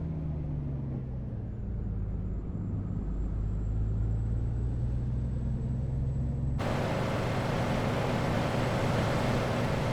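A truck drives along a road in American Truck Simulator, a continuous low engine rumble with a shifting drone that jumps to a brighter, louder roar partway through, steady and close with no talk.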